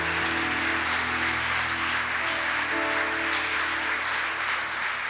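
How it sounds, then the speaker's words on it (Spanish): Church congregation applauding at a Spanish-language worship service, a steady sustained wash of clapping throughout, loud and continuous with no speech over it. "Le damos un aplauso a Él."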